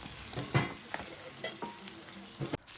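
Tomatoes frying in a pan for egg bhurji give a low, steady sizzle, with repeated close stirring scrapes and taps of a spatula against the pan at an uneven rhythm. No one speaks.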